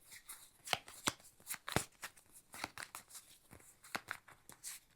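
Playing cards in a tabletop game are shuffled by hand, giving close, crisp riffles and snapping flicks in an uneven rhythm, fairly quiet with no talk.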